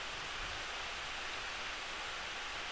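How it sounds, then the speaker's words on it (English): Rain falls steadily in the background as a soft, even hiss with no change and nothing else standing out. "It's the rain. That's what you can hear in the background."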